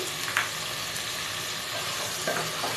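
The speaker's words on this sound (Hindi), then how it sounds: "अब मैं इसे 5 मिनट तक फ्राई करूँगी।" Beef pieces frying in a pot with ginger and garlic paste for haleem give a dense, continuous sizzle with a few faint utensil clicks, close and steady throughout, with no voices.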